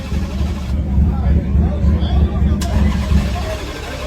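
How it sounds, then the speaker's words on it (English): A race car at a track with its exhaust gone runs with a loud, raw, low rumbling drone that holds steady throughout, under nearby people talking and chattering. "It don't even sound like he got no exhaust on there no more."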